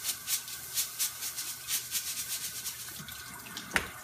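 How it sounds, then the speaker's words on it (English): Rice is rinsed in water at a kitchen sink, with rhythmic swishing and sloshing pulses about twice a second from close by, and a brief knock near the end. "And I'm gonna wash down the rice."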